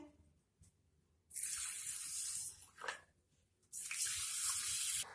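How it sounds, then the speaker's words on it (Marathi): Soaked finger millet grains are rinsed as water pours and splashes into a vessel in two long bursts, with a brief slosh between them, close and fairly loud. "त्यामध्ये पाणी घालून हे 2 वेळा स्वच्छ धुवून घ्यावे"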